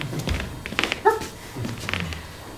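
A performer at an improv theatre show imitates a dog, giving a short, sharp bark-like yelp near the middle, loud and close, surrounded by faint room noise.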